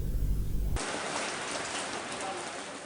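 Heavy rain pours steadily in Banjarmasin, a dense, even hiss after a brief louder low rumble at the start, with no talking.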